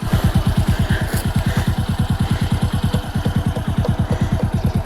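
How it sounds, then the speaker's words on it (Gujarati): A motorcycle on a sandy forest track near Dantiwada dam during a forest patrol, its engine thumping in a steady rapid pulse, close and loud throughout. "અમે ત્યાં બાઇક લઈ જઈએ છીએ"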